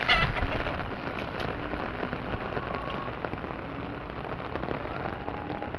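Steady rain pattering on a surface, a dense continuous hiss of drops with no voices, moderately loud throughout.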